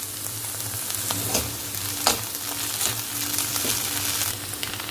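Bengali chire polau sizzles in ghee in a pan while being stirred: a loud, close, continuous frying hiss with occasional scraping clinks from the stirring, and no voices.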